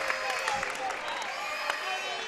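A basketball crowd at a BigV grand final between SCW Ringwood and Hume City cheers and applauds steadily after a made three-pointer and foul, a dense roar of voices that carries through the whole stretch.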